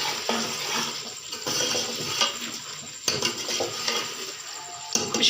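Bhuna beef curry is stirred in a pot, with a spoon scraping and clinking against the metal in bursts over a soft sizzle as the meat fries.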